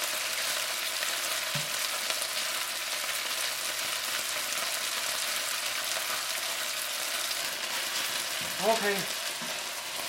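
Beef browns in a hot pan for a beef and cabbage stir fry, giving a steady, even sizzle throughout, with one brief spoken word near the end.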